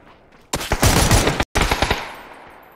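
Rapid automatic gunfire in a first-person shooter video game, loud bursts of shots close up with a brief gap midway, then trailing echo.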